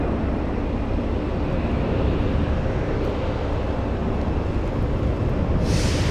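A Delta airliner bound for Detroit takes off on runway 33 left at Boston Logan, a steady broadband engine roar heard from a distance with wind noise throughout.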